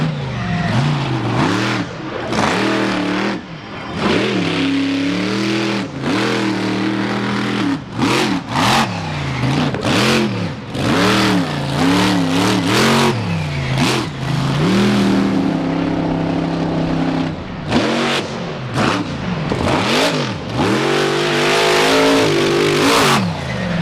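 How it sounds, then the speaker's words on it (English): A loud 4x4 truck engine revs high, hard and repeatedly at a four-wheel jamboree in Indianapolis, pitch climbing and dropping in bursts, with brief pauses between surges. "Heard the revs on the engine revving a little high right there"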